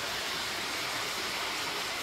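Sambuyeon waterfall in Cheorwon pours down in a continuous, dense rushing roar, steady and enveloping with no pauses or voices.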